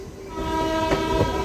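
A MEMU train running at high speed on the Kacheguda to Raichur line, with a loud steady rumble and a sustained horn tone, plus brief rattling bursts near the end.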